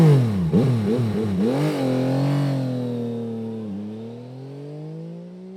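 Yamaha XSR900 GP motorcycle accelerating on the road, its engine revving up through several quick rising pulls before holding a steady, fading drone, close and loud, with no talking.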